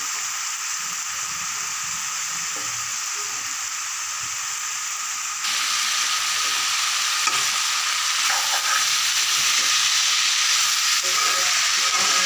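Food fries in a pan with turmeric and salt while being stirred, a steady sizzling hiss that grows louder midway, with light scraping of the stirring and no speech.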